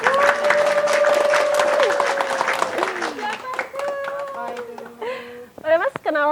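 Audience applause at a live talk show, a brief burst of clapping heard beneath near, continuous talking and a sung tone that carry on over it.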